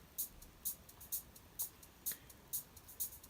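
Crisp hi-hat hits in an electronic music production, about eight evenly spaced bright ticks in a steady rhythm, played alone and fairly quiet.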